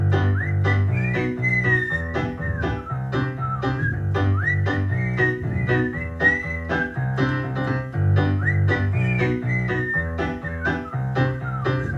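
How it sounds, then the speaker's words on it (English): Whistling carries a bright melody over a steady strummed rhythm and bass at a coffee house performance, with the tune repeating phrase by phrase throughout and no talking over it. "So come on everyone and whistle with me."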